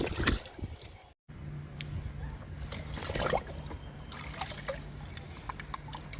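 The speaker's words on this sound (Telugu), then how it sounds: "నిమ్మ మొక్కకి లిక్విడ్ ఇస్తున్నానండి." Homemade watermelon-based liquid fertilizer is poured onto a lemon plant, giving a faint trickle and splash against soft outdoor background noise.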